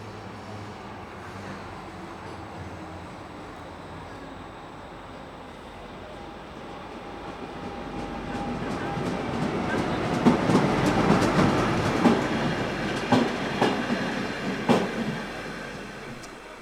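Class 261 diesel locomotive number 032 hauling a freight train with one empty military flat wagon through Hannover-Linden station, starting as a low distant rumble and swelling into loud rolling wheel clatter and rhythmic clicks as it passes close.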